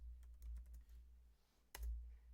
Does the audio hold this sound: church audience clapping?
no